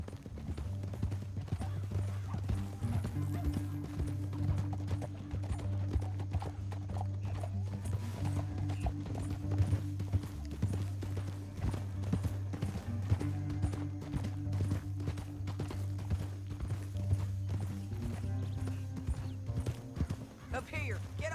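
Horses gallop in Red Dead Redemption 2 with steady, rhythmic hoofbeats that continue throughout, close and prominent over a low musical drone, with occasional talking.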